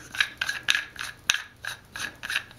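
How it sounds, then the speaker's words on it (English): Someone unscrews a plastic aquarium bulkhead fitting by hand, producing close, rhythmic rasping and ratcheting clicks, roughly two to three strokes per second, with no talk. "So I'll unscrew the new one"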